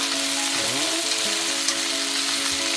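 Vegetables sizzle and crackle steadily in a hot wok as they stir-fry, a constant close frying hiss with a brief tonal clatter of stirring near the start.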